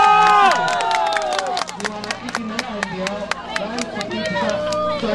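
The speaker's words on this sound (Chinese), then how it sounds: "咱掌声来向陈东山。" Crowd at a Taiwanese political rally for city councillors applauds and cheers to welcome Chen Dongshan, a dense, loud wash of clapping with voices and tones layered through it.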